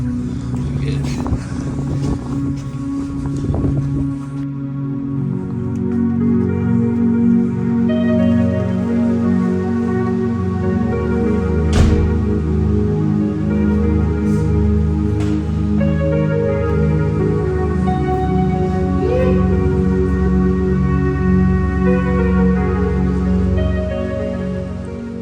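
A 2023 KTM 300 XC TBI two-stroke dirt bike revs and rides along a wet street doing wheelies. Its loud engine drones and rises and falls in pitch, with tyre hiss and spray over a steady roar.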